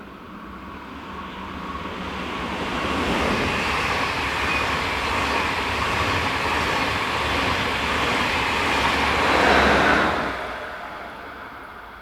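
A train on the Swiss main line near Olten, with Class 460 locomotives in service, builds into a steady broad rumble as it approaches, peaks in a loud close pass, then fades quickly.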